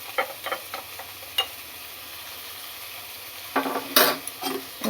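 Onions with salt and turmeric stirred in a pan on a gas stove, sparse spoon scrapes and taps against the pan over a faint background hiss, getting busier and louder near the end.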